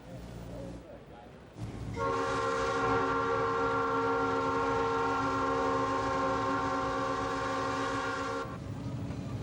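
Amtrak Gulf Coast Limited passenger train on the Mobile to New Orleans route sounds its horn in one long, loud, sustained multi-tone blast over a rumbling run of cars, fading after several seconds.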